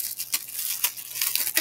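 Short hissing bursts of a skin care spray being misted onto the bottoms of the feet, several quick puffs in close succession, fairly soft and close by.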